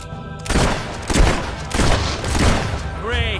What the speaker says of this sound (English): Great shooting.